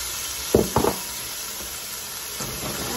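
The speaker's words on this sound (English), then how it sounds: "And I'm gonna start frying up my carrots and my peas" Matchstick carrots and peas frying in a pan give a steady, soft sizzle throughout, with two short knocks or stirring clatters near the start and a faint scrape later, no voices.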